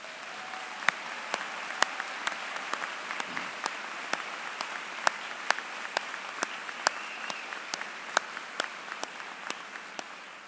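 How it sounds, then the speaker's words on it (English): Scattered applause from the audience at a Florida Atlantic University commencement ceremony: sparse, distant individual claps in an uneven rhythm, fairly faint and steady across the whole stretch. "Please stand to receive one more round of applause from your FAU fans."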